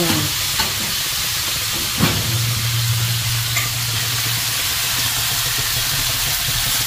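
Water poured into a hot pan of pork and tofu, a sharp hissing sizzle erupting at once and settling into a loud, steady steaming hiss with a low hum underneath.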